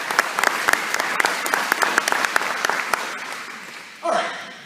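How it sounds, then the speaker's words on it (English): Volunteers at a SUN 'n FUN Aerospace Expo meeting applaud in a room, with crisp, distinct claps over a steady patter that thins out before a voice cuts in near the end. "So a round of applause for that"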